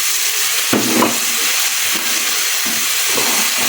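Onion frying in a pan with ginger-garlic paste and spices gives a loud, steady sizzle and hiss, with sharp bursts of spattering as ingredients go in and are stirred. No one speaks.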